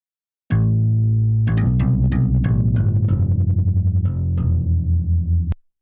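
Two layered synth bass parts playing together in a 2000s-style pop-R&B track, a thick, buzzy, distorted bass line of sustained and shifting notes that starts abruptly, runs continuously and cuts off sharply.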